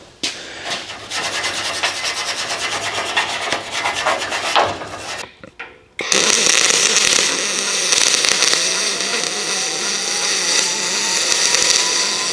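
Aluminum horse trailer gate being brushed before welding, a loud, steady abrasive scrubbing that briefly stops, then resumes as a harsher continuous grind.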